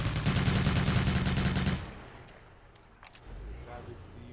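Rapid automatic gunfire in the video game Cyber Hunter, a loud, dense burst lasting under two seconds before cutting off, followed by a quieter stretch with a few faint clicks and a low rumble.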